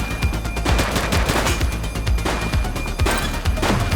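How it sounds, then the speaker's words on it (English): Gunfire in the police video game The Precinct: loud, rapid volleys of shots and impacts crack out in quick succession, almost like automatic fire, with no talking. "He's shooting!"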